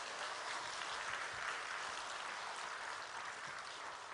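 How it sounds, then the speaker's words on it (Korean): A church congregation at a Sunday service applauds its pastor, a steady, even roar of many hands clapping together, sustained throughout with no voices over it. "제가 잘 이겼는데 박수 한번 해주셔야 되지 않겠습니까?"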